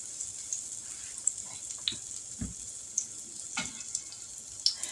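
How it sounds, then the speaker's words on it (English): Soft, steady sizzle of cornbread fritters frying in a skillet, with faint crackles and a few light clinks over a low background hiss. "Now I got the last cornbread fritter in the skillet frying up"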